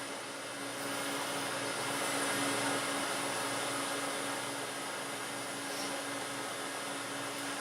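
A wood lathe runs at roughly 2,000 to 2,200 rpm while friction polish is pressed against a turned weed pot, producing a constant loud whirring drone with a steady hum and no break.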